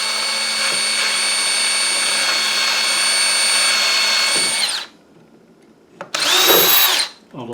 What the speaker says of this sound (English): I'm going to drill a hole on this end here